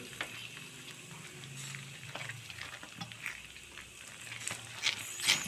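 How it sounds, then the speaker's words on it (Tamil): Sago kesari thickening in sugar syrup being stirred in a pan, a continuous soft bubbling sizzle with occasional scraping strokes, close and steady without talk. "இது கொஞ்சம் கைவிடாமல் தான் கிளறணும்"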